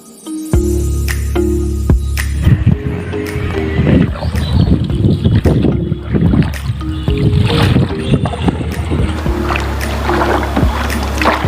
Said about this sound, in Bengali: জাকিরুল অপোজিটে বৈঠা মারতেছে, আর আমাদের নৌকা যাইতেই চাইতেছে না